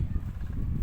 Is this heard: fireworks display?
no